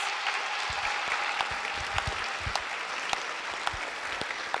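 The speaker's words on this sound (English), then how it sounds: "Can we give everyone another round of applause, please?" Steady applause from an audience at a school Diversity Day stage event, a dense continuous wash of clapping with a few sharper close claps standing out, sustained throughout.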